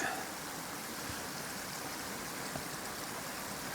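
A small river whose level rises and falls with rainfall flows steadily in a soft, continuous wash of water noise, faint and even with no clear voices.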